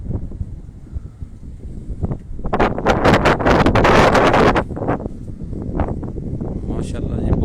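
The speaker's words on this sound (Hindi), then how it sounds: "हवा बहुत तेज चल रही है जी" Strong wind buffets a rooftop and roars across the microphone in loud gusts, peaking in the middle, with someone talking underneath throughout.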